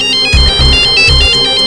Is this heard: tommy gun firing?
no